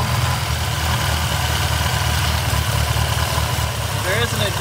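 A 1962 Austin-Healey Sprite engine with twin carburetors idling steadily, a loud, even low rumble up close, with a voice speaking briefly near the end.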